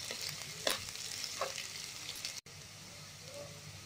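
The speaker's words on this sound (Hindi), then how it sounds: "अदरक लहसुन हरी मिर्च डाल देते हैं। इनको थोड़ा भून लेते हैं 2 से 3 मिनट तक के लिए" Ginger, garlic and green chillies stir-frying in a pan, a quiet steady sizzle with a few scraping stirs of a spoon across the metal.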